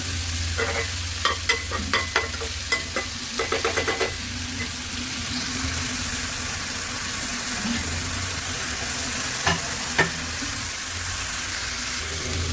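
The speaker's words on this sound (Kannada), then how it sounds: "ಸ್ವಲ್ಪ ಮಿಕ್ಸ್ ಹೊಡಿಯುತ್ತೆ" Fried rice stirred in a pan on the stove, a soft steady sizzle with a quick series of sharp spatula scrapes and taps early on and a couple more later.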